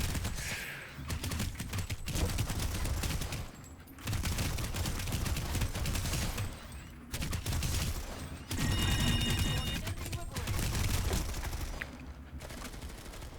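The NSX Naginata fires in a video game: rapid bursts of loud close gunfire broken by short pauses, with mechanical clicks and game sound around them and no talking.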